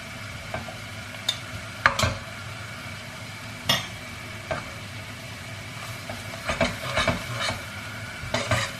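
Tomato paste sizzles and fries in a pot for chicken lentil soup, with a steady hiss broken by scattered scrapes and taps of a stirring utensil, close and moderately loud.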